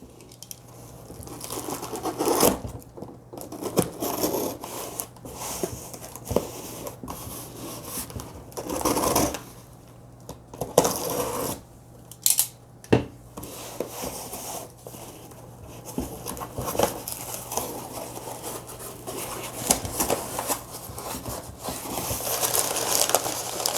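Azzaro Chrome cologne tester packaging being opened by hand, with rubbing, crinkling and rasping scrapes in uneven bursts over a steady low hum, close and fairly quiet, no talk.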